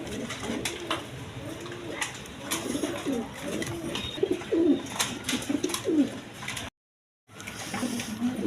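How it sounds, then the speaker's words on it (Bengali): Tulip and Peshawari/Lahori pigeons coo repeatedly in close, rhythmic rolling calls, several birds overlapping, with a brief dropout of total silence near the end before the cooing resumes. "এক পেয়ার টিউলিপ কবুতর আছে"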